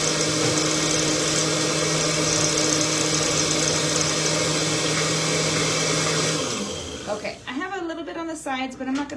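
A kitchen blender sitting on top of a stove runs loud and steady with a high whining hum, then cuts off abruptly, and a person starts talking.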